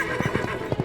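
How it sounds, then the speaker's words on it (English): A horse neighs in an old-time Western radio serial, a short close whinny with rapid pulsing bursts lasting under a second. "From out of the past come the thundering hoofbeats of the great horse Silver."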